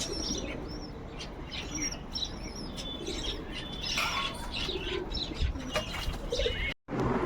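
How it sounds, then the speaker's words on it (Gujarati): Pigeons roosting all around a home coo continuously, mixed with chirps and brief wing flaps, making a soft, busy layer of bird sound with no talking. "ને કબૂતર જોવો બધે બેઠા છે"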